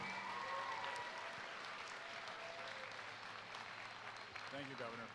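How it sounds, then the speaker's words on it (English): A round of applause at a charity head-shaving fundraiser event, steady crowd clapping that gradually thins and fades, fairly distant and soft, with a voice briefly heard near the end. "Let's have another round of applause for them."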